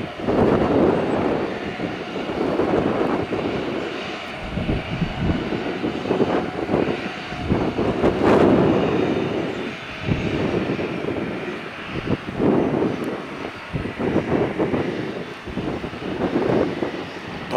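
Boeing 737 jet airliner engines roaring steadily and loudly throughout, a broad continuous rumble with wind buffeting, recorded outdoors while plane spotting near Tampa airport.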